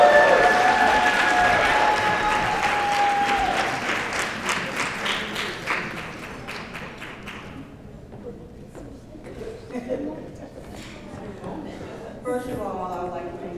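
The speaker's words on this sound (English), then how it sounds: "Let's give a round of applause for Miss Marcia." Audience applause for an honoree at a women's HIV-advocacy awards event, dense clapping for several seconds that thins out and fades, followed by murmurs and a voice starting to speak.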